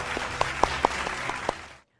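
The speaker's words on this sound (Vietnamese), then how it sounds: "một tràng vỗ tay cho cả hai chàng trai" A studio audience on a TV dating show applauds two young male contestants, a brief burst of clapping with a few distinct sharp claps, ending abruptly in silence.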